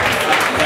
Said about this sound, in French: Un acclamation encore une fois de plus pour vous